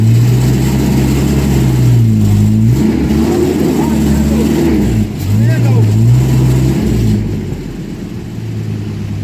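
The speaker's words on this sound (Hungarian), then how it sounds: "Mondjad neki, hogy ne pörgesse annyira a kereket." An off-road vehicle stuck deep in the wilderness revs its engine hard while its wheels spin, the pitch rising and falling in repeated surges up close, with people talking over it.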